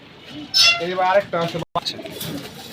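Racing pigeons coo in low, soft bursts close by, with people talking over them and a brief clink partway through.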